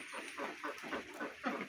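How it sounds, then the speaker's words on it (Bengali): A flock of farm ducks, about a hundred birds, calls in a steady, overlapping chorus of nasal quacks and clucks, close and continuous with no pauses. "আমার এখানে 116 পিস হাঁস আছে।"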